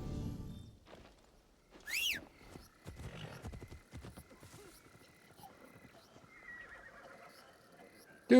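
A horse whinnies once with a sharp rising-falling cry, followed by scattered game sound effects and soft background noise.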